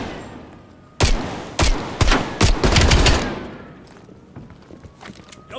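A tight cluster of loud gunshots cracks out in Call of Duty Black Ops Cold War, several sharp bursts close together and then trailing off into a quieter ambience, with no voices.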